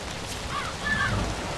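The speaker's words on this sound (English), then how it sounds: "Ooh, the rain." Rain falling in the zombie video game Zombi, a steady hissing wash with low rumbling underneath and a few faint whistling tones rising over it, moderately loud and continuous.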